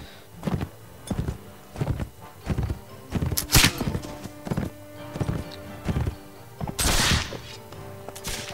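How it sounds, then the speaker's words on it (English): Horse hooves clop in a steady galloping rhythm in the medieval combat game Mount and Blade With Fire and Sword, with loud close thuds, a whinny and occasional sharp impacts and no talk over them. "I just heard the horses like bum ba-da-dum, ba-da-dum."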